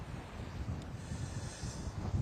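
Wind blows across a sailboat at sea, a steady rushing gust buffeting the microphone with low rumbling swells and no speech.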